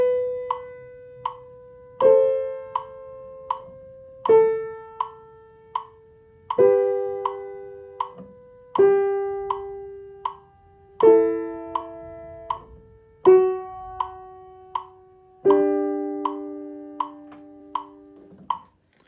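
Piano exercise from Schumann's From Foreign Lands and People plays in time with a metronome set to 80: slow sustained notes and chords land every couple of seconds over steady, faint metronome ticks, with no talking.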